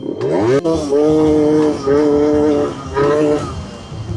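A motorcycle engine that is running poorly, suspected of a clogged carburettor, revs unevenly in loud surges that rise, hold and drop back several times, stuttering between bursts.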